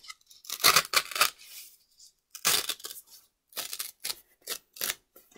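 Origami paper being torn by hand along a creased fold to remove a narrow strip, heard as several short, dry ripping bursts separated by pauses, close and fairly quiet with no talking.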